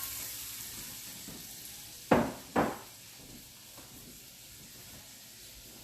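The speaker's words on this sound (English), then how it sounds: "So we're going to saute those in the pan for a couple of minutes until they kind of start to sweat and become a little clear." Onions sautéing in a pan for pozole rojo, a soft steady sizzle broken by two sharp louder bursts of frying as they are stirred or tossed, then settling back to a quiet hiss.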